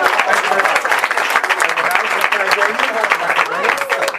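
An audience claps loudly and steadily for a performer at a live show, a close, dense burst of many hands with a few voices mixed in.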